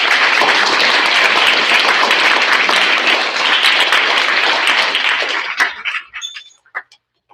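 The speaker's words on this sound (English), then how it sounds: "Let's give them a round of applause." An audience at a sixth grade school awards ceremony claps in a dense, loud burst of applause for about five seconds, then it thins quickly into a few scattered, fading claps.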